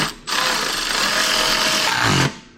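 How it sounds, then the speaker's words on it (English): A small power driver whirs steadily for about two seconds while tightening the fuel pump on a Toro zero-turn mower, a close buzzing tool run that starts and stops abruptly. "Tighten up this fuel pump real quick"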